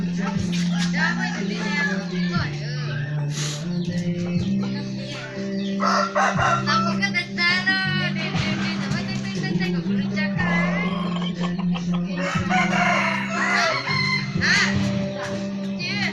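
Roosters crowing repeatedly, with several loud drawn-out calls overlapping near and farther off, plus some clucking and a steady low hum in the background, mixed with occasional voices.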